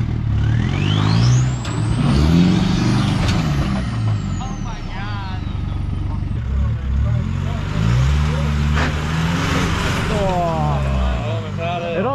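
A damaged Nissan NP300 ute crawls off-road over an obstacle in the Glasshouse Mountains, its engine labouring and revving unevenly up close while several people talk over it.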